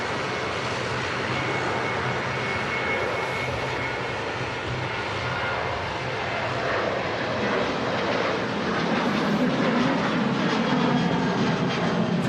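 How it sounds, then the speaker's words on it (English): A Dash 8 turboprop airliner's engines drone continuously at Manchester Airport, a loud, raw, steady roar that shifts slightly in tone toward the end as the left engine spools down. "That made a seriously good noise, as they do the Dash 8s. Really raw engine sound to them."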